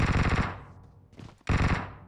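Rapid automatic gunfire from Honey Badger and AKM rifles in a shooting video game, loud, dense bursts that break off briefly mid-clip and then resume at full intensity.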